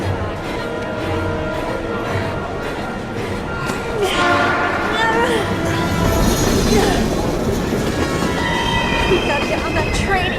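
A train rushes past in the video game Heavy Rain, a loud rumbling with clattering wheels and squealing metal, while voices speak over the noise.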